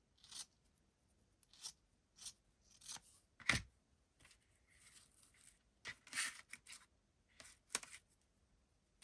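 Scissors snipping through fabric in short, separate bursts of cutting and rustling, close and fairly quiet, with no talking.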